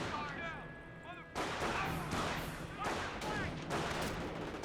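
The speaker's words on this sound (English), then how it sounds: "Good mortar hit there." Mortar shells bursting in a Company of Heroes 1 battle between US and Panzer Elite forces, a run of heavy booming impacts after a quieter opening with faint chirps, rolling on one after another at moderate distance.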